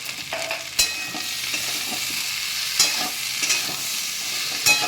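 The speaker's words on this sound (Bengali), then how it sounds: "ভালো করে নাড়াচাড়া করে নিলাম।" Amla pickle with regular salt and black salt being stirred in a pan, giving continuous close scraping and soft sizzling with a few sharp spoon knocks against the metal.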